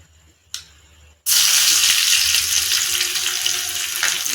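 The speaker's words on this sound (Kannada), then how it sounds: "ಸ್ವಲ್ಪ ಫ್ರೈ ಆಗಲದು ಬೆಳ್ಳುಳ್ಳಿ ಕೆಂಪಾಗಬೇಕು" Crushed garlic drops into hot oil for a South Indian tempering, bursting into a loud, steady sizzle after a brief clatter, frying continuously up close with no talk.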